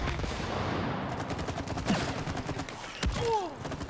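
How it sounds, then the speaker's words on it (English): Gunfire aimed at a nest in the video game It Takes Two: dense, continuous shooting over a busy game mix, with a few sharper bursts and whooshing effects near the end. "I just gotta shoot the nest"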